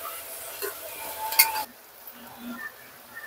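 Onion frying in a pressure cooker gives a faint sizzle with a few light stirring clinks of a utensil, and the sizzle softens partway through.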